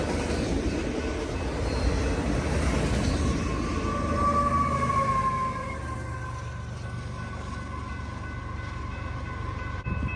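Union Pacific freight train passing, a steady loud rumble of rail cars with a horn-like tonal whine, easing slightly as it continues rolling by.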